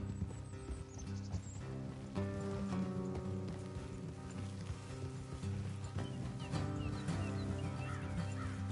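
Faint, rhythmic hoof clip-clops of horses plod along over a steady low musical backdrop in Red Dead Redemption 2, with a few bird-like clucks mixed in.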